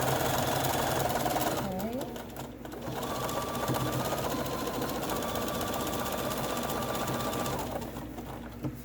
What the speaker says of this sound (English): we're going to come in and sew this